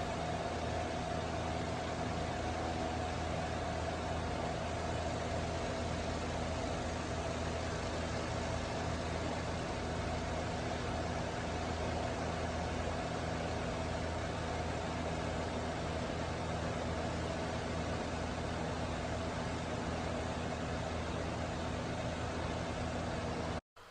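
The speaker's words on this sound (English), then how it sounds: "we've started up the engine" A Mitsubishi Mirage engine idles steadily with a coolant system being refilled, a constant low hum with a faint steady whine on top, unbroken and even until it cuts off abruptly at the very end.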